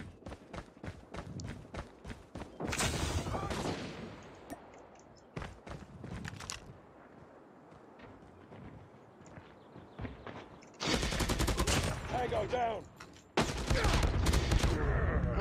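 Gunfire from Call of Duty Mobile ranked multiplayer comes in several bursts: short rapid single shots early, then longer sustained volleys of automatic fire near the end, with quiet footsteps between.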